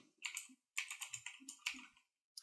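Rapid bursts of typing on a computer keyboard, close and crisp, with several quick runs of keystrokes separated by short pauses, no talking.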